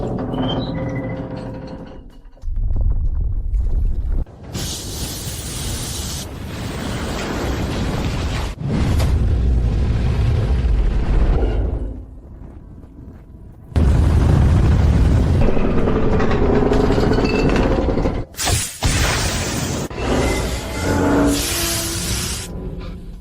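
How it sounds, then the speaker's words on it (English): A cracked middle exhaust pipe on oilfield equipment in the Gobi Desert sprays oil out in loud, broadband hissing bursts that start and stop abruptly, with no voices over them. "Yigu, the middle exhaust pipe cracked. Oil is spraying out."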